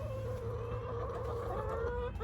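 A small backyard flock of hens clucks at morning treat time, a steady close chorus of low murmuring clucks with no talk.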